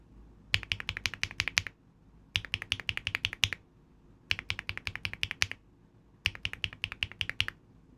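Bursts of rapid, crisp keystrokes on a keyboard with Marbly linear switches in four separate runs with brief pauses between them, close and clicky, no talking.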